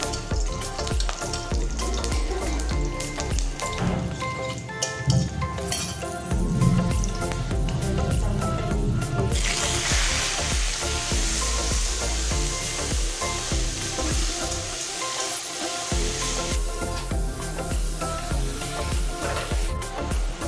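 Garlic and black cumin sizzle steadily in hot oil for a simple spinach dish, a continuous crackling fry that runs beneath steady background music with no talk.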